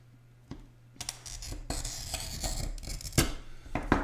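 A glass cutter head scores a sheet of soft glass, giving a close, gritty raspy scrape that runs for a few seconds, marked by sharp ticks and clicks.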